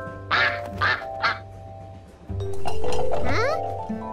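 A cartoon duck quacks a few times in a children's animated show about a girl and her duck, short nasal honks near the start, followed by a young voice talking over a background music bed.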